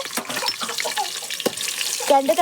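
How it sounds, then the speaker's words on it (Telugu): Onions sizzle in hot oil at the start of a home-cooked fish curry, a continuous hiss with soft stirring clinks while someone talks over the frying. "ఇప్పుడైతే ఆయిల్ హీట్ అయింది ఆనియన్స్ అయితే వేసేసినాం"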